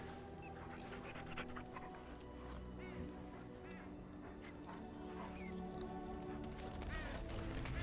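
A dog panting in the fantasy video game Dragon Age: Origins, steady rapid breaths over a constant bed of game music and ambience, with brief bird-like chirps scattered through.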